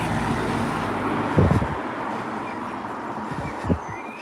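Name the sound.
car passing by on road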